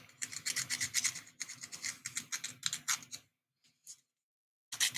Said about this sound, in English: Let's give it a little bit of a sand.